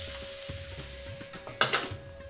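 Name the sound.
potatoes frying in a pan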